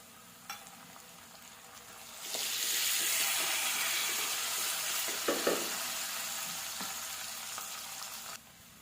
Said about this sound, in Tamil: வெங்காயமும் பூண்டு நல்லா வந்து வதங்கிடுச்சு கருவேப்பிலையும் நல்லா வதங்கிடுச்சு